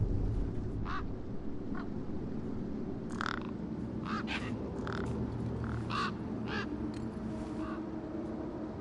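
Birds in the video game Skaetur's Steel Sky let out harsh, crow-like caws and quacking calls, scattered and repeated over a low, steady ambient hum.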